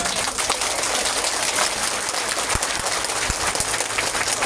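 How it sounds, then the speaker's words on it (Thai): A standing crowd applauds dense and steady to welcome the Thai Prime Minister arriving at an outdoor World Horticultural Expo site, the clapping like continuous rain throughout, fairly close. "ลุกขึ้นยืนปรบมือต้อนรับท่านเลยนะคะ"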